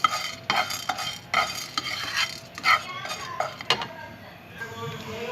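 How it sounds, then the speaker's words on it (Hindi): Chana dal roasting in a pan at home, with a steady close sizzle and repeated scraping, clattering strokes of a spoon against the pan, loud and busy throughout. "देखिए इसको मैं चने की दाल को भून रही हूँ"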